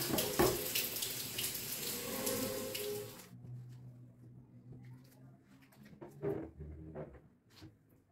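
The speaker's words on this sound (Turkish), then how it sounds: "Bir şöyle hortumlayayım." Running water from a hose splashes during bathroom cleaning, loud and steady for about three seconds, then cut off, leaving faint clatter and handling sounds.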